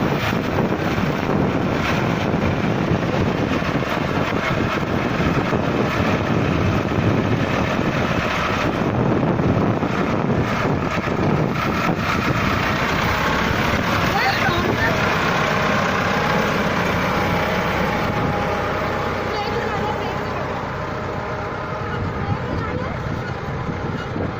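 A tractor engine runs in a village, a continuous rumbling drone close to the microphone with wind buffeting, while people talk over it.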